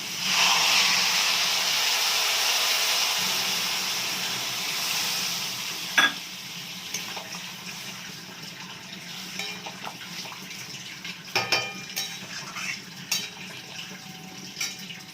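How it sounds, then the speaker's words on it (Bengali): Spice masala frying in a pan for a fish, okra and potato dish, a steady loud sizzle and hiss that slowly softens, with occasional stirring clinks and scrapes later. "মশলাটা কষা হোক তারপর আবার আসছি আমি জল অ্যাড করে দেবো"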